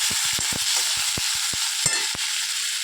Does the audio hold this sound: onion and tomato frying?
yes